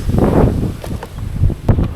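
Strong mountain wind on the road from Rizal to Malico in San Nicolas, Pangasinan buffets the microphone in loud, rumbling gusts for a couple of seconds, with brief rustling bursts.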